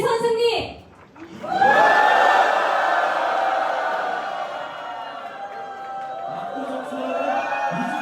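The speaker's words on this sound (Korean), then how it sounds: "저희가 앞에서 구호를 외치면 여러분이 큰 함성으로 앞에 있는 피켓을 흔들어 주십시오" At a Reform Party presidential rally for Lee Jun-seok, a crowd lets out a sustained shouted cheer that swells suddenly after a brief pause and carries on for several seconds at fairly steady loudness.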